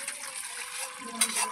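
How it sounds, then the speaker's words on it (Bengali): Water is poured off slowly from settled corn flour sediment, a soft continuous trickle and gurgle close by, brief and gentle with a slight splash near the end. "ঠিক এইভাবে আস্তে আস্তে জলটা ঢালতে হবে।"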